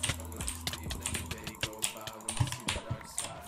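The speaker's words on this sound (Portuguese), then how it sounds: "o sound click que eu quero dizer é o som do teclado e do mouse e tudo mais" Rapid computer keyboard typing and mouse clicks while playing Minecraft, crisp close clacks in uneven bursts, with someone talking over them.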